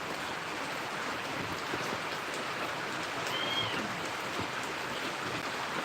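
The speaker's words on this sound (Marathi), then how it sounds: "पाऊस चालू आहे बघा आमच्याकडं" Steady rain falls outdoors, a continuous even patter and hiss at moderate level with no voices over it.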